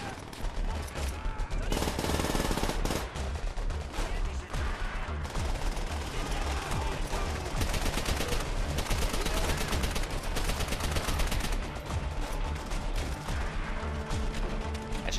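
A machine gun in Call of Duty: World at War fires nonstop, loud and dense, blending with other battlefield gunfire and explosions across the whole stretch, while a voice speaks beneath the din.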